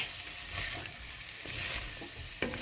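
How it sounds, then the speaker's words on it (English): Chopped bacon ends brown in a pan, giving a continuous close crackling sizzle with faint occasional stirring scrapes. "So right now I have some bacon ends that I cut up and I'm browning"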